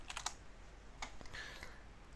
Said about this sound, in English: You type regedit